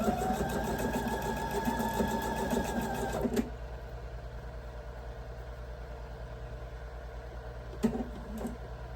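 A sewing machine pieces a quilted table runner with a fast, close, steady whir for about three seconds, then stops. After that only a quiet room hum remains, with a couple of faint clicks near the end.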